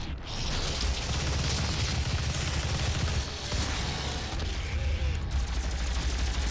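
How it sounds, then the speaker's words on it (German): A weapon in the Doom game spits blue projectiles in a steady, dense stream of rapid shots, loud and close, running nearly unbroken with a brief dip midway. "ich schieß blaue Kügelchen"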